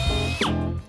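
A deburring tool fitted with carbide inserts works the edge of a metal coin die, giving a brief whirring, whining grind with a ringing tone that slides in pitch partway through and then fades.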